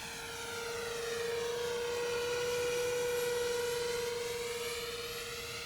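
An E-Flite Airbus A320neo model jet with twin 64mm electric ducted fans passes overhead at about half throttle, a steady high-pitched whine swelling and fading with a slight Doppler sweep, alone without talk.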